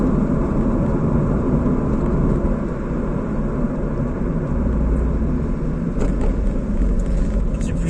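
Nissan 350Z underway, its engine a steady close low rumble with broadband road and wind noise running throughout, unbroken, with no clear speech over it.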